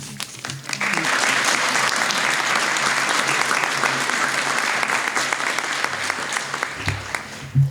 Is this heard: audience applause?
yes